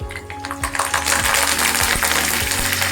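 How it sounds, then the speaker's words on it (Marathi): Curry leaves crackle and sizzle loudly in hot oil over cumin and mustard seeds, tempering for a Maharashtrian katachi amti, with sharp pops and steady frying hiss throughout. "त्यानंतर कढीपत्ता टाकून घेऊ"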